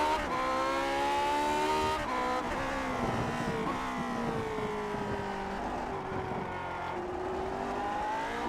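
A racing car engine in a video game at the Imola circuit holds a high, steady, whining rev with harmonic tones that rise and fall between gear changes, loud and continuous throughout.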